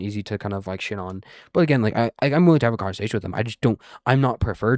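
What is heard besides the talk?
No distinct noise like a dog, phone or traffic.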